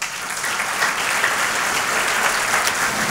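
A church congregation gives a sustained round of applause to honour the mothers present, many hands clapping in an even, continuous roar with no voices rising above it.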